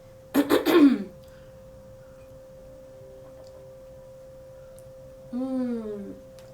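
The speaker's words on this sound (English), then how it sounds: "the cough kind of comes and goes" A sharp burst of coughing and throat clearing at the start, then a quiet pause with a faint steady tone, and a short vocal sound near the end.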